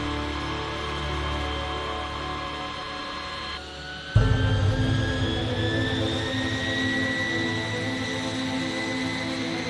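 Jet engines of a B-52H Stratofortress bomber roar steadily, with a sharp surge partway through as the whining tone rises in pitch and the rumble grows louder.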